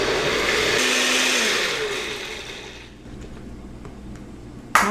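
A blender purees sweet potatoes and broth in a loud whirring burst that holds steady, then winds down as the motor stops, ending with a small clunk.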